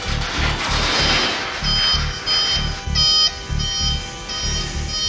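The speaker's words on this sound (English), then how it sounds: "Kill those alarms!" Spacecraft electronic alarms beep in rapid repeating bursts over a pulsing low thud, loud and urgent.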